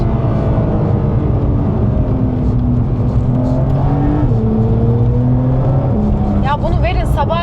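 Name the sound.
Lamborghini Urus SE sports car driving on a track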